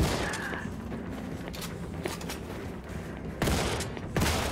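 Gunfire in the video game Wolfenstein II: The New Colossus, a dense dry crackling barrage with heavy blasts near the end, loud and close, mixed with game effects and no talk.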